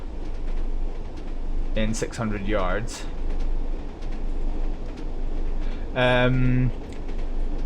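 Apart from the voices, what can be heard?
Class 101 train running and braking in a train simulator video game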